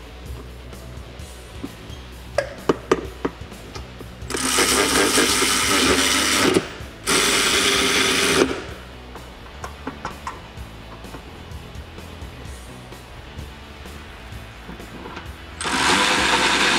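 Power tool tightening rear bumper bolts while installing a RedRock hitch receiver on a 2007-2018 Jeep Wrangler JK, heard as two loud sustained whirring bursts midway, a third starting near the end, with clanks and clicks of hand work between them.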